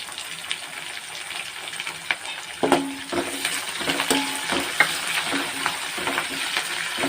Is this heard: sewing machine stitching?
no